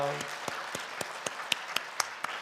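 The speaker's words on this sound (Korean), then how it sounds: "다시 한번 사랑과 격려의 박수 부탁드립니다." Sparse, separate claps ring out one after another at a steady pace, sharp and fairly close, with a brief voice at the start, during a Wednesday evening church service.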